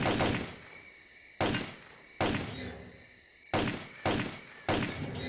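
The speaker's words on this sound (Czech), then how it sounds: "Ono i když člověk čeká a střílí pomalu, tak prostě ta puška střílí trošku šejdrem" Rifle fire in the video game S.T.A.L.K.E.R.: Clear Sky, six sharp single shots spaced about a second apart, each with a loud crack and a decaying tail, without talking.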